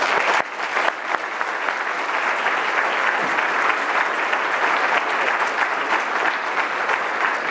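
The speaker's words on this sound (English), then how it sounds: "Really, we're clapping for you." Sustained applause from an audience welcoming Governor Shumlin at a corrections professionals' event, a dense steady wash of clapping filling the room throughout.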